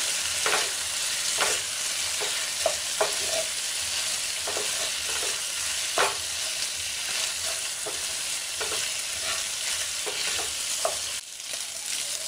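Chicken pieces fry in a pan for a simple chicken fry, a steady broadband sizzle filling the clip with occasional sharper spatters and stirring scrapes, close and fairly loud, no voices.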